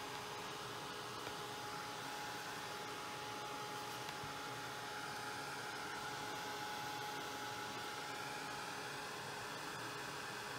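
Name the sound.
heat gun drying watercolor paint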